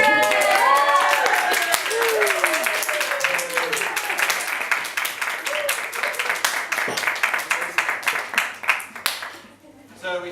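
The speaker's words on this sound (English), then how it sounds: "clap whenever you want to" An audience claps and applauds at a first-birthday celebration event for a spoken-word night, with loud, dense clapping that thins out toward the end, accompanied by a few cheers and voices.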